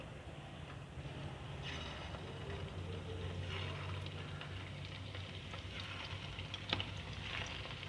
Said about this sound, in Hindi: इसको फ्राई करने के लिए रखेंगे।